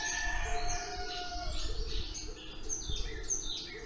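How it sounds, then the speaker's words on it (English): A sunrise alarm clock's rooster-crow sound: layered bird calls and chirps play continuously, with a few higher whistles; no clear crow stands out, and a soft low rumble runs underneath. "Maybe you want a rooster to crow."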